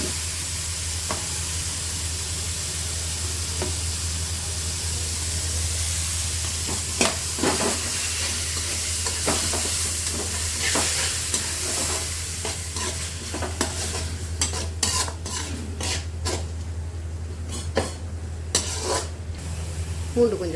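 Onions and ground tomato sizzle steadily in a pan for an egg drumstick coconut milk gravy. A spoon stirs and scrapes in intermittent knocks over the continuous frying hiss, close up.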